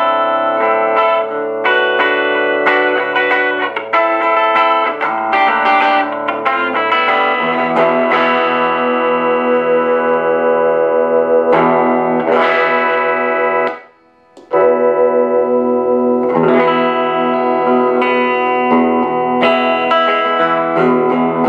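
Electric guitar through a MicroTerror amp into a Celestion speaker, played with distortion, chorus and echo effects, sustained chords and melodic notes ringing loud and continuous for about twenty seconds, with one short gap near the end.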